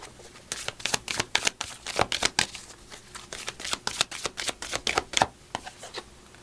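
Oracle cards are riffled and shuffled in a steady run of quick crisp flutters and taps, close and alone with no voices.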